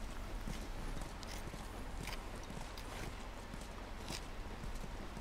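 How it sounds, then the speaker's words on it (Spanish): Horses in The Last of Us walk with a steady clip-clop of hooves, soft and continuous across the whole stretch over a low ambient bed. "Caballos. Caballos. Tenemos muchos."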